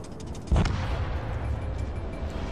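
A ship detonates in the naval combat game World of Warships: Legends, a single deep booming blast early on, followed by a sustained low rumble of battle noise.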